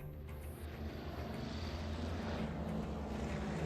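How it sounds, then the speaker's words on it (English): A fighter jet passes low overhead, producing a heavy, sustained roaring rumble that stays loud and fairly even throughout, with no voices. "A fighter jet whizzes past overhead,"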